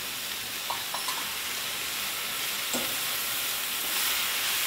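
Amaranth leaves fry in a pan with a steady, broad hiss of sizzling oil and a few faint clicks of stirring, close and continuous.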